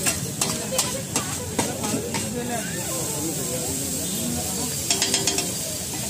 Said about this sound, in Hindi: बल्कि में लहसुन अदरक का तड़का लगेगा इसमें